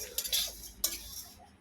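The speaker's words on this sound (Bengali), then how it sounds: "এই ওটসটা ভাজা আছে, আর এই চিড়েটাও ভাজা চলছে" Flattened rice (chira) being fried and stirred in a pan, with scraping metallic clinks from the utensil and a faint dry rustle; two sharper scrapes stand out over a low steady background.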